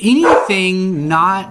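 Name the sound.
dog barking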